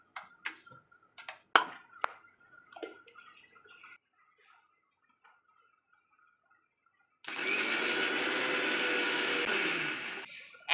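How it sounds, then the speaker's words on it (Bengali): Raw green mango for aam panna whirring in a blender, a steady loud motor roar that starts suddenly after a few light taps and clicks and then runs continuously to the end. "তো চলো এবার এটাকে আমি ব্লেন্ড করব।"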